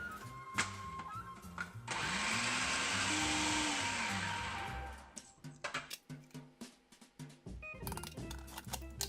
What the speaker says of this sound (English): stick it in the blender or the food processor, chop it up until it's nice and thin